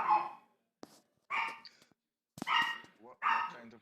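A Chihuahua gives four or five short, sharp, high yaps in quick bursts with brief silences between, close and fairly clear.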